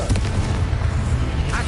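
A Confringo fire spell bursts in Hogwarts Legacy, a loud, rumbling blast with a dense low boom that holds steady for under two seconds.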